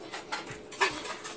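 Short high-pitched whimpers and yelps from video game puppies come in quick bursts, fairly close, with a faint electronic background.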